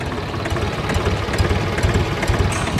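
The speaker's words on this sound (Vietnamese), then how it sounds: "Con này nổ rất là im nha." A Mitsubishi MT21 tractor loader's diesel engine idles steadily up close, a low, even rumble with a faint rapid knock and no speech over it.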